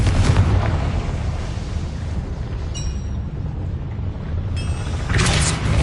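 The Confringo explosion spell from a Harry Potter video game goes off in loud, rumbling booms, with a heavy blast at the start and another swelling burst at the end over a constant roaring backdrop.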